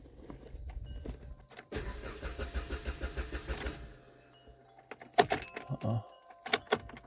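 A 2010 Jeep Compass with a no-start fault cranks in a rapid rhythmic churn for about two seconds, then falls quiet, followed by clicks and door or key clatter close by.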